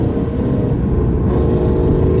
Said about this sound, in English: You hear his car?